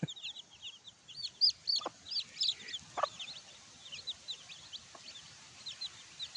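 Many tiny two-day-old chicks of a native chicken breed peep constantly in high chirps, with a few low clucks from hens underneath, quiet and close, no talking.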